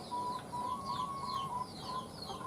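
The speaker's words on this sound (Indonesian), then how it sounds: "Itu ada ayam yang lagi mau bertelur sepertinya, jadi berisik ya." A KUB hen about to lay an egg gives repeated clucking calls, tonal and rising, recurring in an uneven rhythm over a steady background hum.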